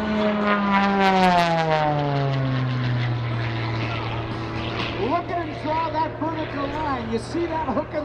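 An aerobatic propeller airplane performs at the EAA AirVenture 2018 airshow, its loud engine drone sweeping downward in pitch as it passes close by, then settling into a steady hum while a voice talks over it.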